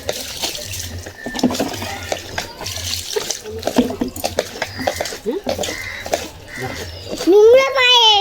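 Water from a tap runs and splashes while a child's dirty feet are washed, with steady running water under frequent close talk from a child and others, ending in a louder gush.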